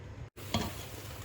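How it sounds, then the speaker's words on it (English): A pot of ghormeh sabzi stew coming to a boil under its lid over high heat, a steady bubbling hiss broken by a brief dropout and a single soft knock, heard close with no talk. "we're going to cover the pot now with the lid and leave it to boil"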